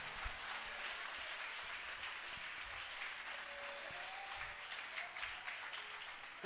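A church congregation at a worship service claps in a steady, dense wash of applause, faint and distant, holding evenly throughout with no clear breaks.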